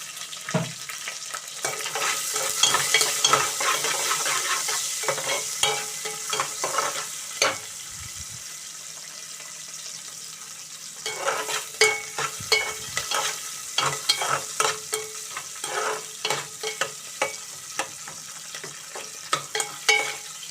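Two sliced onions and four slit green chilies fry in oil in a pan for a bottle gourd dal, with a soft steady sizzle and bursts of spatula stirring and scraping, close and with no talk.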